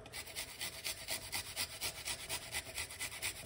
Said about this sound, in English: Grate it, because the amount of flavor you're gonna get from this is unbelievable.